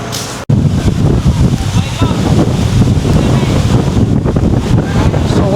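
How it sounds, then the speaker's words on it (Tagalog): Strong wind buffets the microphone over a steady roar of surf on a busy beach at Station 2 in Boracay, loud and continuous with waves breaking close by. "Hangin, kaya maalon."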